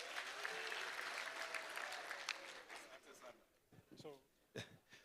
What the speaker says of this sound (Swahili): Pigia makofi kwa gavana.